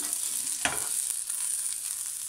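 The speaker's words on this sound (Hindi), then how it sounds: "तेल हल्का सा गर्म हो चुका है इसमें डालूंगा थोड़ा सा लहसुन" Garlic sizzles in lightly heated oil for an Arabic-style lentil soup, a soft, continuous frying hiss with a single brief stirring scrape early on, heard alone.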